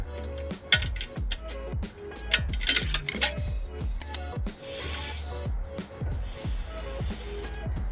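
A Jeep Grand Cherokee parking brake adjuster gear, turned slowly with a flathead screwdriver, gives a quick run of small metallic clicks and ticks, some faint and some sharper, with scraping in between.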